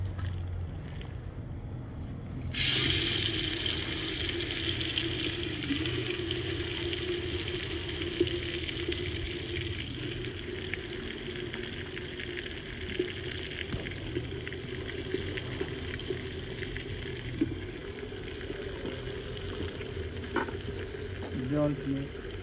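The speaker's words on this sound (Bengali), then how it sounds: "এবার মাংসটা ঢেলে দেবো।" About a kilo of chicken hits a hot handi in a village kitchen and sets off a steady, fairly quiet sizzle with stirring noises that carries on for about twenty seconds.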